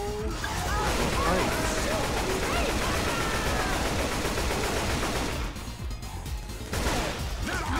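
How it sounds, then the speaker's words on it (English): Rapid semi-automatic rifle fire in the zombie video game Left 4 Dead 2, dense bursts of shots with crashing and game noise, under constant talking from players. "That's a semi-automatic rifle."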